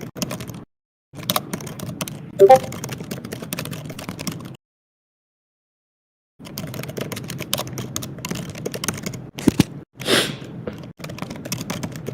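Clicky, clattering keystrokes on a mechanical computer keyboard, typed in steady bursts with a pause of silence midway, close to the microphone and without speech.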